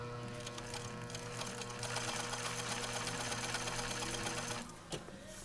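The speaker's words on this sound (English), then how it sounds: "when you make your first stitch, you've got to start out slowly" A Juki MO-6716S serger runs slowly through its first stitches, a steady mechanical whirr and rhythmic needle chatter, close and fairly quiet, stopping abruptly near the end.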